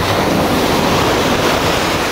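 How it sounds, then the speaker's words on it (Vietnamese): Big, heavy surf rolls continuously onto a beach at Bach Long Vi island in Hai Phong, a loud, steady wash of breaking waves with wind buffeting the microphone throughout. "Biển sóng to cực kỳ luôn."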